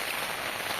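Heavy monsoon rain pouring down in a village, a dense steady hiss of drops striking surfaces, close and loud with no voices.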